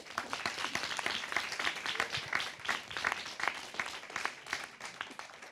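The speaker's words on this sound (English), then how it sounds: "Can we give them a round of applause?" Sustained applause from an audience at a working-group assembly session, dense overlapping hand claps holding steady at moderate level throughout, heard from within the hall with no clear talk on top.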